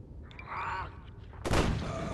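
An explosion in the zombie survival game Zombi bursts out as a single loud, sharp blast partway through, following a stretch of quieter, murmuring game sounds.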